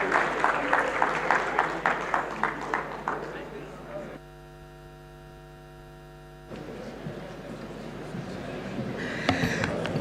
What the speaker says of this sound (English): Round of applause, please, for the Senator.